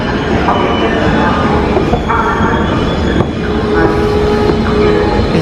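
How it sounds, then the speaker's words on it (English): A passenger train pulling in at a station platform in Poland, steady rolling rumble with wheel squeal and brake tones, loud and near, with voices faintly under the noise. "Oh, yep. That is our train."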